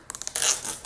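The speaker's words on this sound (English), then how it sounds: "The 2 wraps of tape are in between my marks, and I put another wrap" Adhesive tape is pulled off its roll and wrapped around a bundle of wood blocks, a few quick close ticks followed by a short crackling tear, fairly quiet and heard alone.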